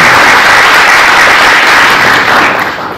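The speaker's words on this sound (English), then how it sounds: "If we could applaud for her." An audience at a school board meeting applauds, giving a dense, loud wash of clapping that fills the room and fades slightly at the end, with no voices over it.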